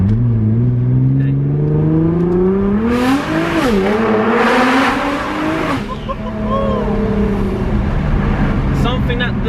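A 2017 Nissan GT-R engine and exhaust pull loudly while driving, rising in pitch through gears with tire noise, passing through a tunnel.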